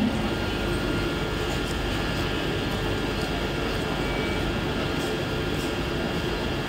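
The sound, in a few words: local train arriving at platform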